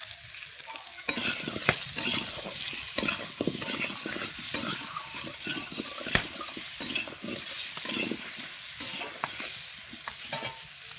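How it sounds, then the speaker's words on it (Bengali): Potato pieces coated in salt and turmeric for a meat curry fry in a pan, sizzling steadily while a utensil scrapes and stirs them in repeated close strokes, with no talking. "সুন্দর করে লাল করে আমি ভেজে নিচ্ছি আলুগুলো।"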